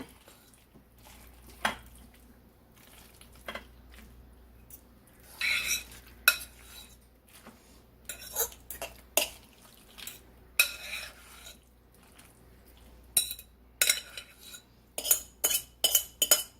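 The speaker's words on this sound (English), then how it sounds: "take your baking dish and put it all in there" Tuna casserole is scraped and spooned into a baking dish, with a run of close, sharp utensil clacks and scrapes that grow busier and louder toward the end over a quiet room hum.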